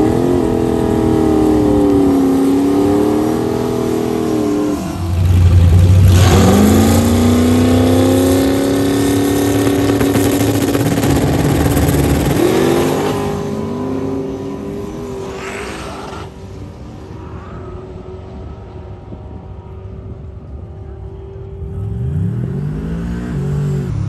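A race car at BIR circuit accelerates through a track pass, engine note rising and falling in pitch as it shifts, loud and near at first, then easing and receding before climbing again.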